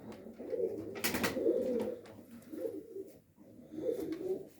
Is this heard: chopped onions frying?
no